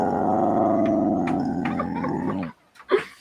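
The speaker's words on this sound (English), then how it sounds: "Why's this dog fighting with me?" A dog growls and grumbles continuously for a couple of seconds, close and fairly loud, then breaks off into short yelps and whines.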